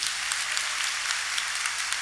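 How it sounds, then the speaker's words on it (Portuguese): A church congregation applauds during a homily by Father Moacir Anastácio, a steady, dense wash of clapping from a large crowd, moderately distant and continuous throughout, with no voices over it. "Pode aplaudir isso."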